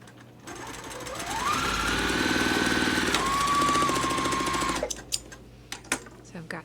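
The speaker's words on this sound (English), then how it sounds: "I'll stitch them with my 1/4 inch seam." A sewing machine stitches two quilt block pieces together with a quarter-inch seam, its motor whirring up in pitch, dipping and holding steady, then stopping, followed by a few light handling clicks.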